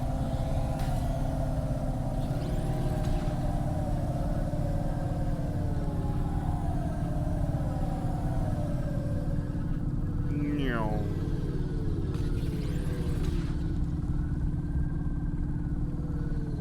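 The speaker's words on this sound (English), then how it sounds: "Oh, my car sounds terrible right now." A struggling car engine in the video game Cloudpunk drones and stutters steadily throughout, with a wavering pitched whine and a brief rising warble midway, no speech over it.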